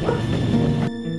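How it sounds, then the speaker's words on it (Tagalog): A large dog lets out a single short, loud bark that cuts off abruptly, recorded close by with a faint hum behind it. "Yung malalaking aso."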